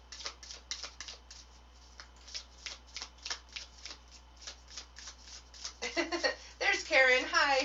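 Playing cards are shuffled in a steady run of quick riffling bursts at moderate volume, followed near the end by a louder stretch of people talking.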